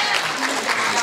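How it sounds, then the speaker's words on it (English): An audience at a school WinterFest talent show breaks into a short burst of dense applause with some crowd noise mixed in. "Give a big round of applause if you like card tricks."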